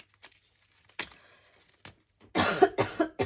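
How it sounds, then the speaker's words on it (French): A woman with a cold coughs, a few scattered single coughs followed by a louder close burst of rapid coughing near the end. "Excusez-moi, je tousse."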